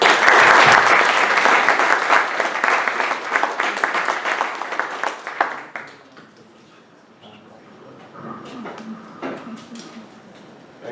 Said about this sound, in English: join me in a warm round of applause for Dr.